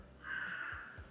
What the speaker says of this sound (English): my gosh, these crows.